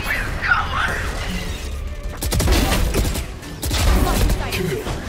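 Gunfire in the video game Valorant crackles in rapid bursts and single shots over game ambience, with sharp impacts clustered midway and near the end, mixed with in-game sounds.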